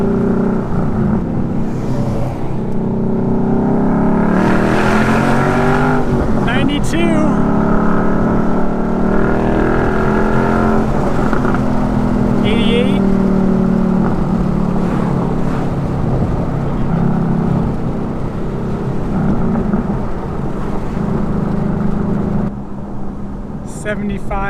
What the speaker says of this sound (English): So the side pipes do make some noise?